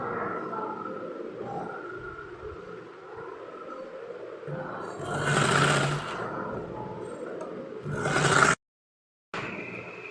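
A sewing machine attaches a sleeve to a kurti in two short, loud runs over a quiet room hum, close by, with a sudden silent gap after the second run.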